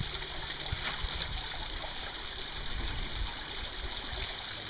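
Water flowing over a gold prospecting sluice mat, a steady rushing stream with a broad, even hiss throughout and no talking.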